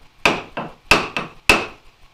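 A chisel is struck by a mallet into a through mortise in a wooden workbench, and the waste is pried out. Five sharp, close knocks sound in an uneven rhythm, each ringing briefly with a woody resonance.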